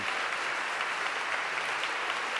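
Rapturous applause at Wigmore Hall after a song recital, a dense, even wash of clapping from the concert audience filling the whole moment with no pause.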